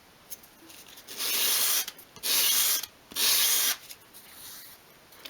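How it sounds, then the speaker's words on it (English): A miniature wooden shelf edge is rubbed back and forth on sandpaper by hand to form a bevel, giving three steady gritty rasping strokes, close and fairly loud, separated by brief pauses, with no talking. "You don't have to hold it too firmly against the sandpaper. And that's creating a nice bevel there."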